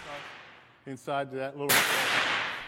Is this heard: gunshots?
yes